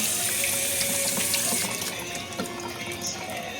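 A kitchen tap runs steadily in a constant rushing stream for washing, with faint splashing and clinks, no speech.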